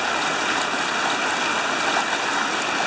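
A river rushes steadily just downstream of a hole in its bed, a loud, continuous broadband wash of flowing water with no breaks and no voices.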